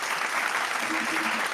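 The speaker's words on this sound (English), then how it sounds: "We got to give her a clap hand" Dense applause from a crowd, steady clapping that fills the whole moment at an even level, close and continuous without a break.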